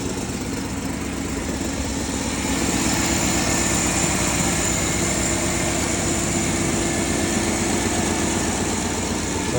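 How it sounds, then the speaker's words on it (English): A Chevy Tahoe V8 with a collapsed lifter and an exhaust leak idles steadily and loudly with an uneven, puffing exhaust rumble, no voices, constant throughout. "so we got a little exhaust leak."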